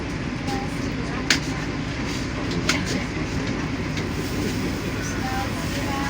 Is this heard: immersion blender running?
no